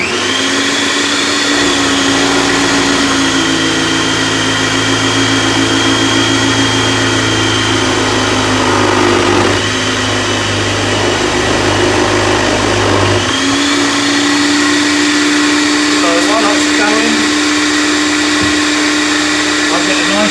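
A blender runs loudly and steadily, its motor whine dipping briefly midway before picking back up and continuing without talk.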